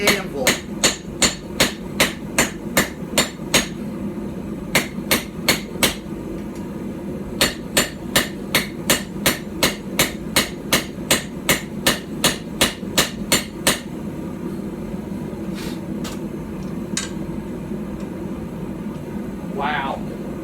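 Hammer blows ring on a tiny Anglo-Saxon/Viking-style stump anvil during hand forging, sharp metallic strikes in rapid bursts with short pauses, close and loud, fading to a few sparse taps near the end.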